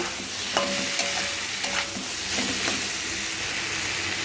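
Turmeric, cumin and red chilli powder being stirred into a frying pan of shrimp and taro stolons, with a loud, steady sizzle and a few scraping strokes and clinks of the spoon.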